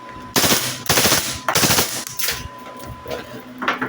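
A firearm fires on full auto in several loud, close bursts of rapid shots separated by short pauses.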